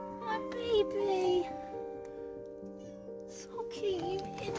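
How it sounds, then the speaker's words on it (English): Pet cat meowing repeatedly in drawn-out, rising and falling cries, close by, with people talking and cooing around it near a micro camper van. "She started meowing like mad, didn't she?"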